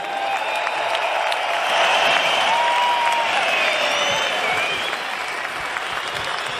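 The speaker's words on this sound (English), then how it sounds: "round of applause for these two world-class warriors?" Arena crowd applauding and roaring after an IBF world title boxing bout between Lomachenko and Kambosos, a dense, continuous wash of clapping and cheering with no talk.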